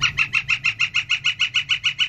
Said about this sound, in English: there's a northern flicker. Hit it.